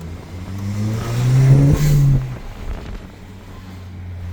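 A car drives along with a rising engine note that swells loudly mid-way and then fades, under steady road and wind rumble, no talking.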